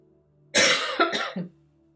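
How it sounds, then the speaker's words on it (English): A short burst of harsh winter coughing, two or three coughs in quick succession, close up, then quiet. "I do have a bit of a winter cough here."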